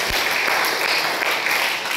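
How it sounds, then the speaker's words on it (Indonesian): A church congregation claps for God during a sermon on family restoration, dense sustained applause that fills the space evenly and steadily. "Berikan tepuk tangan yang meriah buat Tuhan"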